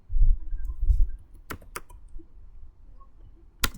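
Git commands being typed on a computer keyboard: a few quiet key taps up front, then two sharp clicks close together, a pause, and one more crisp keystroke near the end, all fairly near with no talk.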